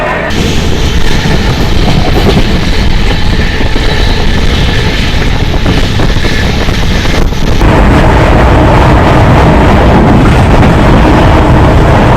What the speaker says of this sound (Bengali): আমাদের ট্রেন নির্দিষ্ট টাইমে 9 নম্বর প্ল্যাটফর্মে লেগে গেল